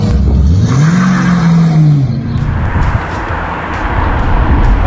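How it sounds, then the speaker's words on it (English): A Mercedes E63 AMG engine rumbles and revs steadily, heard from inside the car, with a rising and falling tone early on, then settles into a loud, continuous road roar. "we're going down in the mighty E63 Amg, so give that a bit of a run as well"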